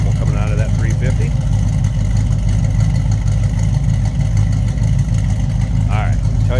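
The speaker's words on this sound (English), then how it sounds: "Nice little rumble coming out of that 350." A 1961 Chevrolet C10 Apache stepside with a 350 engine idles with a loud, steady low rumble close by, while faint voices come and go over it.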